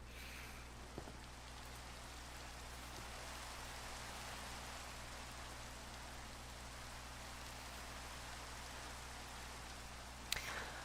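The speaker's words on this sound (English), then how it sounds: "Get rid of the rain, which seems very loud to me." Steady rain in a fantasy terraforming crafting game, a continuous even wash of rainfall that stays loud throughout, with a soft thump near the start and a brief click near the end.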